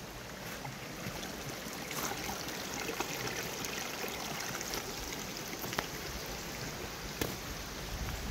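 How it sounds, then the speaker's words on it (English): Steady rushing water flows continuously through a culvert by a creek, with a soft trickling texture, moderately distant and even in level, with no voices. "Culvert's working nicely."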